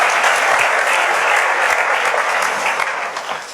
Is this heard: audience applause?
yes